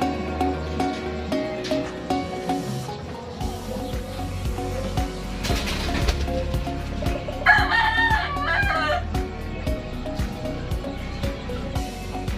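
A gamefowl rooster crows once partway through, loud and close, among scattered clucks and farmyard fowl sounds.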